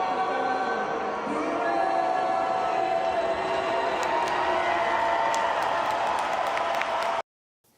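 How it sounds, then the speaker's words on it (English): Hockey fans in a Vancouver Canucks arena cheering and applauding after the anthem singer finishes, a loud sustained roar of crowd noise that cuts off abruptly near the end. "Canucks fans were nice enough to cheer for the singer when the anthem was finished"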